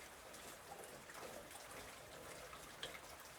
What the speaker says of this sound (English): Here I can hear it trickling down the gutters,